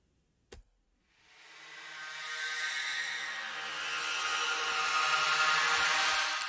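After a single click, an isolated reverb send on a soundscape in Ableton Live 11 swells into a broad, airy hiss-like wash that builds gradually and sustains smoothly, filtered of low end, with no voices.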